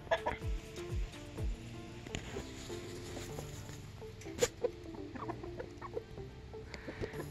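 Chickens in an old shed used as a temporary coop give soft, scattered clucks and short calls. Light pattering and shuffling movement runs underneath, and the birds stay fairly quiet throughout with no talking.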